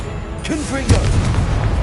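Confringo blasting curse from Hogwarts Legacy going off, a booming burst mixed with swooping magical whooshes and a second thump about midway, under a continuous rumbling game backdrop.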